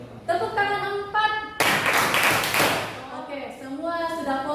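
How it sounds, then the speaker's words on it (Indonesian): A classroom of students claps hands together in a rhythm pattern, a dense burst of clapping lasting over a second, with a teacher's voice speaking before and after it. "Tepuk tangan 4."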